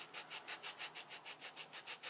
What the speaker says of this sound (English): Take the sandpaper and